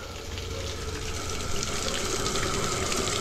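Water gushes steadily from a 1 1/4-inch pipe fed by a submersible pump, a continuous close splashing flow that grows slightly stronger partway through as a valve opens.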